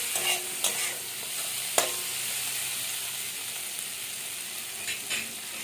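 Bitter gourd frying and being stirred in a pan, a steady close sizzle with occasional scraping knocks of the spatula.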